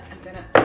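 Sharp tapping of a cold process coffee soap mold against a surface to settle the batter, a single loud knock near the end right after brief talk.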